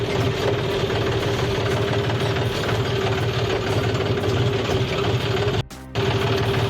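A tractor engine drones steadily and loudly in a crop field, with a low rhythmic chug, briefly cutting out near the end before resuming.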